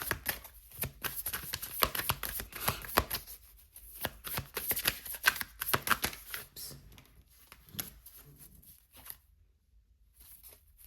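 Green Witch's Oracle cards are shuffled close up in a quiet room, a rapid run of soft riffling and slapping bursts that thins to sparse taps toward the end.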